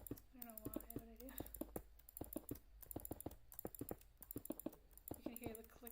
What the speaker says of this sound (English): You can hear the clicking from my mouse too because I know the microphone is like right here.